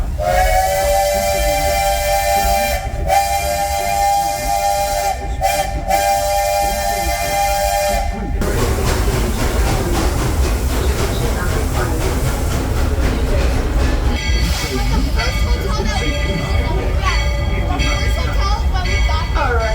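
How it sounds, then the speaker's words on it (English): A steam train whistle blows with long harmonic tones, then gives way to hissing steam and rumbling rail noise as the train departs Main Street Station at Magic Kingdom, with voices underneath. "We're currently departing Main Street Station."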